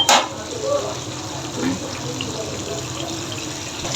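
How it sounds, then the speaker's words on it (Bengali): Water pours steadily into a cooking pot holding bottle gourd curry, a continuous close splashing flow with a brief louder gush at the start. "আমি এখন জল সময় সবটা দিয়ে দিচ্ছি"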